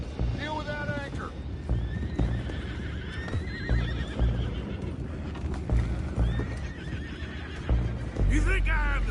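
Horses whinny and snort amid clattering hooves in the video game Red Dead Redemption 2, with shouting voices and busy background noise throughout.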